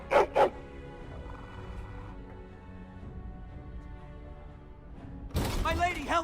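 A dog in a video game gives two sharp barks at the start, followed by a low growl and game sounds, then a louder burst of voice-like noise near the end.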